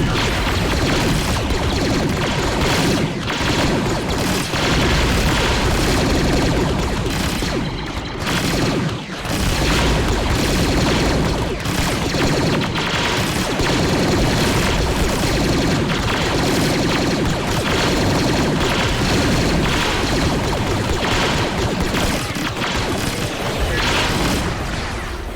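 Continuous automatic gunfire and heavy booms from a Star Wars–themed battle in the strategy game Men of War: Assault Squad 2, as troops shoot at monsters, loud and dense throughout with crashing impacts layered over sustained firing.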